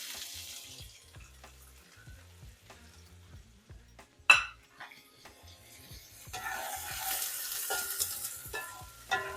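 Onions go into a heated pan for a protein breakfast, with scattered clinks and a scrape against the pan, a sharp clatter midway, then a steady near sizzle building in the last few seconds, no talking.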